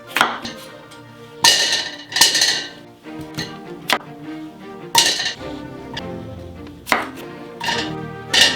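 A knife cuts peeled potatoes on a board for pommes duchesse, giving sharp, close, irregular chops with occasional metallic clinks against a pot, heard alone without speech.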